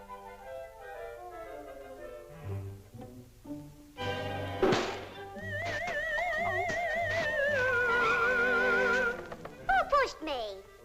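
A cartoon shotgun fires once with a sharp blast in a 1950 Woody Woodpecker short. The shot cuts through orchestral music, and cartoon voices talk before and after it.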